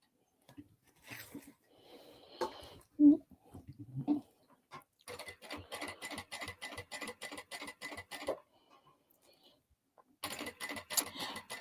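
A sewing machine with a nearly empty bobbin running in rapid stitching bursts, a quick rhythmic clatter in two stretches separated by a pause, with a voice briefly heard at the start.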